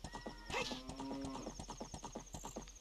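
Horse hooves in Zelda: Ocarina of Time clip-clop in a steady galloping rhythm, with a brief whinny-like tone early on and faint game music running underneath.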